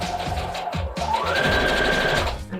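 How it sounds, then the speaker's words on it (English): A sewing machine stitches the bottom seam of a fabric face mask, running loud and close in a rapid mechanical chatter that speeds up partway through. "So here's the bottom seam, we're going to go ahead and sew over that."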